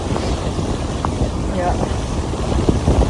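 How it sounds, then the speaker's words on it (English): Strong, bitterly cold Arctic side wind drives blowing snow across an open winter landscape, buffeting the microphone with a continuous low rumble and gusty roar while a voice briefly speaks. "It's getting really cold and windy now."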